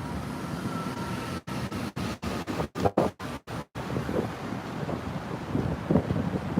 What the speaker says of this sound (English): how's the wind noise? I want to know about that.